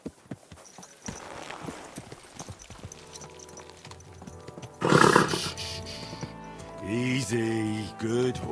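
In the medieval role-playing game Kingdom Come: Deliverance II, a horse's hooves clip-clop in a run of spaced thuds, joined later by a loud snort and whinny-like calls amid game ambience.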